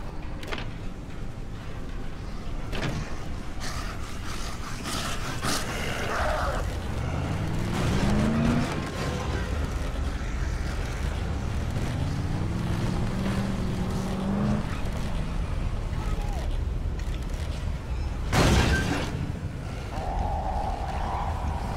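Car engine in the video game Dead Island revs and whines with rising and falling pitch as the vehicle drives, punctuated by a few sharp knocks and thuds, with brief talk low in the mix.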